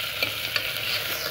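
Onions and curry leaves frying in a pan over medium heat for an Anglo-Indian railway mutton curry, a steady soft sizzle with a few faint stirring clinks, close and quiet with no talk.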